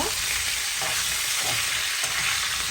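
Potato pieces frying in a pan with turmeric and salt, giving a continuous, even sizzle with faint stirring movements underneath, close and moderately loud with no talking.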